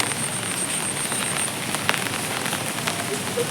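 Steady rain falls on a rooftop flower garden, a close, even hiss of drops on leaves and surfaces with a few slightly sharper drips, and no voices.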